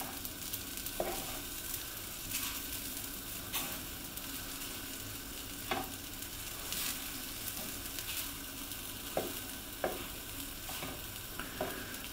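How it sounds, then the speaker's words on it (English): Mashed potato patties fry in a pan with a steady low sizzle, broken by sharp scraping clicks as a spatula is shaken underneath and flips them, quiet and close with no talk. "Notice how I'm shaking my spatula to get underneath and then I'm flipping in one go."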